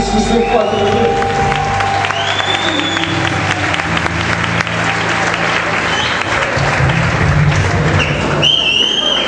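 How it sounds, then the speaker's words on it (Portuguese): A church congregation applauds loudly and steadily throughout, with a crowd murmur and scattered cheers blended in, at the opening of a state youth congress in Lages in 2012. "Aplaudindo se você pode."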